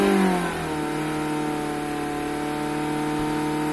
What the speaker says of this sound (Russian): Ну чё, сейчас я газану.